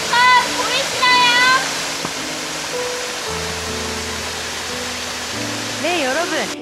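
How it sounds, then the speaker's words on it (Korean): A waterfall at the Fujita Memorial Garden, a Japanese garden in Hirosaki, roars as a constant broadband rush. Someone talks over it at close range. "폭포에 왔는데요"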